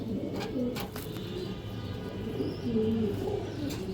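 Soft, low pigeon coos repeat a few times over a steady murmur of background noise, with faint chirps higher up.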